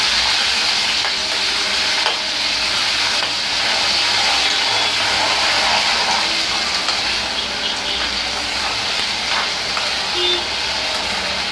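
Potatoes, tomatoes and ginger-garlic paste sizzle in a pan while being stirred, a steady loud frying hiss with occasional scraping knocks from the stirring, close up and without speech.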